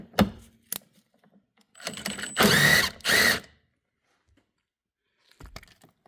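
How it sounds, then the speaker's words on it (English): Torx T40 screws being undone on a 2021 Audi A6 Allroad during a 12V battery replacement: a few metallic clicks, then a loud, close burst of rapid ratcheting and a second shorter burst, with soft clinks afterward. "this can be removed by undoing, I believe there are four of these screws, and they are a Torx T40."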